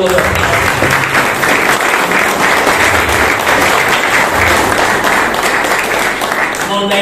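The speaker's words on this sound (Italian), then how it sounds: "al quale vorrei tributare un caloroso applauso" Warm applause from the audience at a painting exhibition held in memory of an artist, a loud, sustained crowd of clapping hands that stays steady from start to finish.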